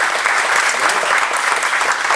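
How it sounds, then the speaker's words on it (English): A full round of applause at a presentation event, many hands clapping densely and evenly, loud and close, holding steady throughout with no voices on top. "A big round of applause for him."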